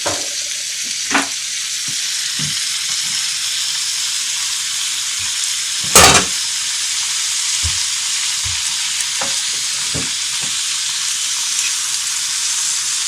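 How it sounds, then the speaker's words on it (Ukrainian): Hen-of-the-woods mushrooms fry in a pan with a steady broadband sizzle, broken by a few soft scrapes and clinks of stirring and one louder clatter partway through; no voices. "Зараз це перемішаю."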